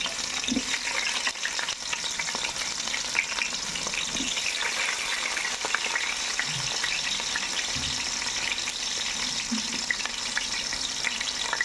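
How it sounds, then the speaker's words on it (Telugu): Mustard seeds, cumin, fenugreek and pepper fry in hot oil with a dense, continuous crackling sizzle, close and steady throughout, with faint stirring taps beneath. "ఆవాలు జీలకర్ర మెంతులు అన్నీ వేసాను మిరియాలు కొద్దిగా వేసాను"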